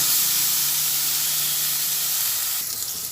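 Chopped tomatoes hitting hot oil in a frying pan with spice paste while cooking chicken ghugni, giving a loud, continuous sizzle and steamy hiss that eases slightly toward the end, with no voices.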